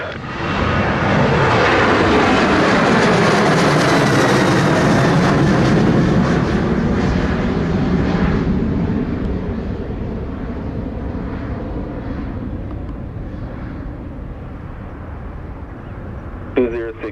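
A fixed-wing airliner lands on the runway at Sangster airport in Montego Bay, Jamaica, its loud jet roar building, peaking and then slowly fading as it rolls out, with radio chatter in the background.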